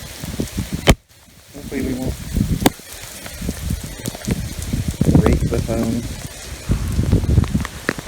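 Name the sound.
rain falling in cemetery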